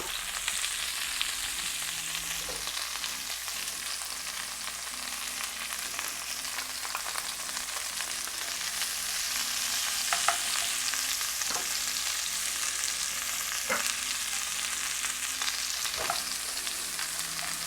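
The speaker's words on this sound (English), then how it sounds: "Let's add our onions. I'm going to add the white onion, not the green onions." White onions frying in a pan produce a steady, close sizzle with intermittent crackles and spatula stirring taps, continuing throughout without any voices.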